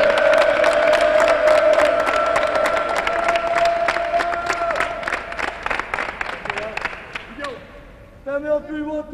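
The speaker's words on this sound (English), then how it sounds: "They cheer family instead of team, because that's what they are out here." A packed crowd at a Kaukauna Ghosts basketball game roars and claps in a loud, sustained wave with a chant-like tone. The noise thins toward the end as a voice cuts in.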